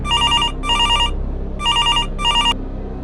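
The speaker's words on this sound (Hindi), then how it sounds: "तभी शॉप पर एक कॉल आई।" A telephone at a pizza shop rings with an incoming call, four loud electronic trill bursts in two pairs, each about half a second long, separated by short gaps over a low background hum.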